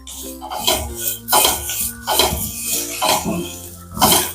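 Tender sorghum grains are roasted and stirred in a dry kadai. A spatula scrapes and rattles against the metal pan in repeated loud strokes that come roughly every second, close by.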